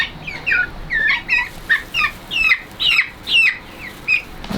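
Chickens make an unfamiliar repeated gobbling, clucking call, a series of rhythmic bursts about every half second, close and loud, with no talking.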